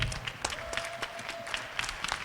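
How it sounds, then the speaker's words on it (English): A small audience at fight club tryouts claps briefly, scattered close hand claps at irregular intervals with a faint voice underneath. "Give me another big round of applause for these 2 gentlemen."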